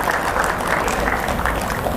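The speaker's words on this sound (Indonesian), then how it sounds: "Tepuk tangan untuk wali murid Bina Amal." Applause for students' parents at a school academic excellence award ceremony, a steady dense clapping from a large audience that fills the whole stretch with a faint voice underneath.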